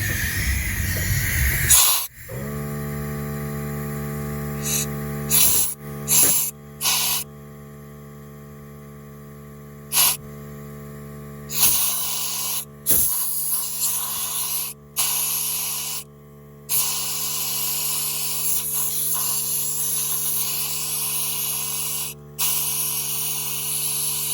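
An air compressor blows dust out of the engine bay of a Ford Expedition with a 5.4 3V Triton engine: loud bursts of hissing air, some long, some short, over a steady mechanical hum, close up.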